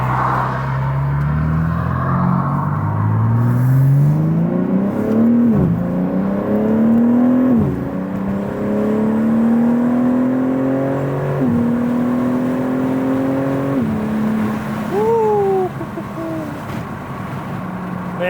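BMW G80 M3 with an aftermarket exhaust pulling through gears with windows down, rising engine tone sweeps repeating with each upshift, mixed with wind rush and road noise.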